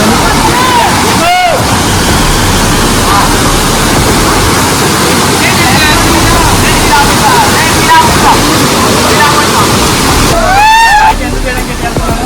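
The loud, roaring Valasa waterfall near Maredumilli fills the scene with constant rushing noise, while voices and occasional whistling chirps cut through.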